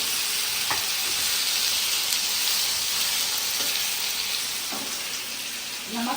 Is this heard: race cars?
no